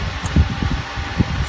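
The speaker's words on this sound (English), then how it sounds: "Sorry about the fan noise." An electric fan runs with a steady low whir and soft airy rustle in a hot indoor workspace, continuous and close for a brief stretch.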